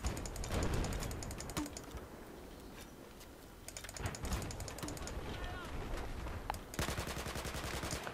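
Rapid bursts of automatic gunfire and shots crack through a Battlefield 4 tank-versus-helicopter online match, with repeated rattling volleys broken by short pauses while a player talks excitedly over the action.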